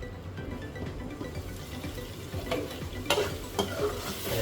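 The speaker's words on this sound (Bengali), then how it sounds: "এই তারপরে আলুটা দিব, কারণ আলুটা সিদ্ধ হতে সময় লাগে।" Potatoes cook in a pan of drumstick-leaf curry, giving a steady soft sizzle with stirring scrapes and a few sharper clinks near the end, close by and with no talk.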